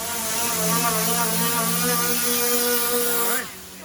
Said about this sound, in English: They're grinding just the weld only.